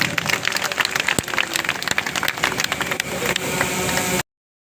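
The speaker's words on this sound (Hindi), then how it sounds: "भाई, जोरदार ताली बजा दो।" A village crowd greeting a political party founder claps loudly, a dense burst of applause lasting about four seconds before cutting off abruptly.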